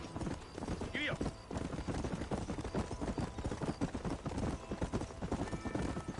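Horse galloping in the Western video game Red Dead Redemption, a steady rapid clip-clop of hooves running throughout, close and loud, with a brief whinny early on and a voice calling to the horse.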